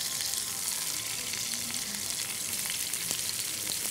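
Bitter gourd (karela) frying in a pan, a continuous bright sizzle with small crackles and faint stirring, steady and close throughout with no voices.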